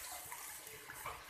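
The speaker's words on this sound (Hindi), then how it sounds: "अब मैंने जो बादाम वाला पानी ग्राइंड किया है, बादाम डाल के वो मैं इसमें सारा डाल दूँगी।" Ground almond water poured into a pot for almond sharbat, a continuous bright splashing stream, close and steady throughout the short moment.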